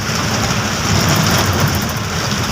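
Rain in Telangana hisses steadily with a low rumbling undertone, loud and continuous for the short stretch.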